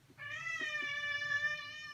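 A house cat meows once, a long drawn-out call rising and holding steady, close and clear over a quiet room while someone works on a simple floral painting.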